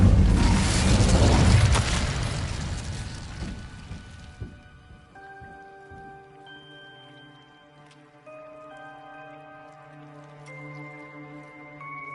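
Incendio fire spell cast in Hogwarts Legacy, a loud roaring whoosh of flame that swells at once and fades over about four seconds, leaving faint tonal music and small ticks.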